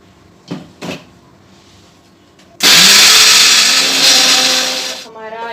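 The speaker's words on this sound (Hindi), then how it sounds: "अब हम इसे घुमाएंगे मिक्सी में और फिर बन जाएगा इसका चीले का बैटर।" A loud mixer grinder whirs into action after a few soft knocks, grinding moong batter for chilla, running steadily for a couple of seconds before winding down.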